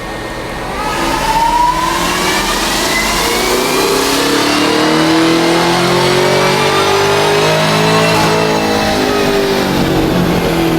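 A loud supercharged car engine with a carbon fiber supercharger lid revs up and holds high, its throaty roar topped by a rising blower whine, close and continuous throughout, recorded up close in the engine bay.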